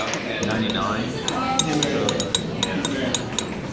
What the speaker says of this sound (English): Going the other way now, stirring.